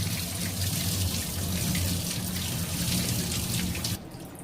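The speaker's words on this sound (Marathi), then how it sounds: "त्यामुळे ह्यावरती थंड पाणी ऍड करते" Cold water pours steadily over a big batch of boiled pasta, a loud, continuous splashing rush close up that drops off sharply near the end.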